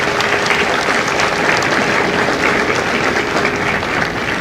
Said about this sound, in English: Ladies and gentlemen, a round of applause for our recruiters and our combat instructors.